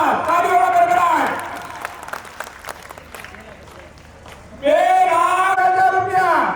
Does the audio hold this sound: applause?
yes